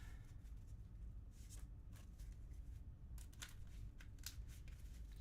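A deck of cards being shuffled and riffled in quick bursts, close and fairly soft over a steady low background hum, during a card game.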